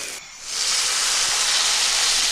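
Kashmiri chili powder and ground cumin hit a hot pan for a prawn and kochur loti curry and erupt into a loud, steady sizzle close by, with no talk.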